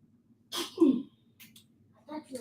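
A single short sneeze with a breathy burst, followed by quiet speech nearby.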